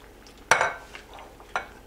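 Shrimp dropped back into a pan of butter for creamy Tuscan shrimp, giving two sharp clattering, stirring bursts against the cookware with a faint sizzle between them.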